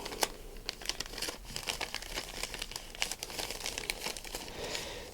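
Paper envelope for a Panasonic GH5 V-Log activation card being torn open and handled up close, a steady run of crinkling and ripping with sharp crackles throughout.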